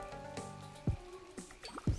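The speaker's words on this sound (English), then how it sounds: "It's raining here in the campground again." Rain in a campground in the Plants vs. Zombies 3 video game: a few distinct, fairly close water drips plop at uneven intervals over a soft, steady background of game music and ambience.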